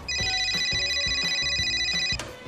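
A telephone rings during a school end-of-year play, an electronic ringtone repeating in steady bursts with a faint low rhythmic backing underneath, fairly quiet and without talk.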